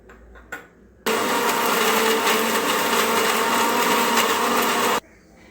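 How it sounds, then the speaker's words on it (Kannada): Mixer grinder blending sambar masala with cooked lentils starts abruptly into a loud, steady whirring roar for about four seconds, then cuts off to quiet kitchen sounds. "ಈ ಥರ ರುಬ್ಬಿಟ್ಕೋಬೇಕು."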